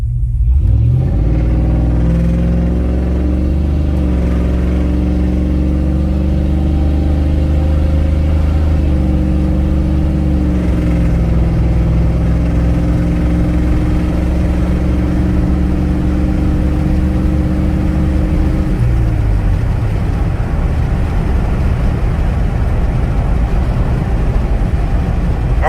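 A car with a 700R4 automatic transmission and Corvette servo accelerates at about half throttle on the road, engine rumble rising in pitch through the gears before settling into a steady cruise drone.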